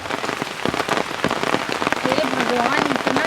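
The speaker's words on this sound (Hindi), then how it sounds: "इतना ज़्यादा बारिश हो रहा है कि मैं स्कूल में कैसे जाऊंगी" Heavy rain pours steadily and loudly on hard surfaces throughout, with a faint voice or tonal sound rising briefly toward the end.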